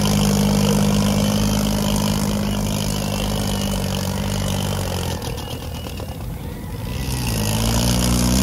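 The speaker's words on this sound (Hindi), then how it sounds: "देखो भाई कितना गर्म हो रहा ट्रैक्टर" An overheating tractor engine runs steadily with a loud, low rumble and dense mechanical drone, briefly easing in load partway through before surging back to full power.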